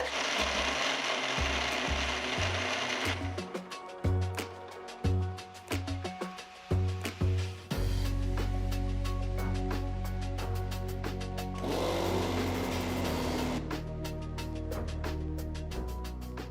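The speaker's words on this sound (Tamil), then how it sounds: "பாதாம் பருப்பு அரைக்கிறதுக்கு நான் கொஞ்சமாக பால் ஊற்றி நல்லா மையாக அரைக்க போகிறேன்" Mixer grinder blending soaked almonds with a little boiled and cooled milk into a medium paste, a loud steady whirring drone with clattering bursts as the jar is run in short pulses, then a long continuous grind.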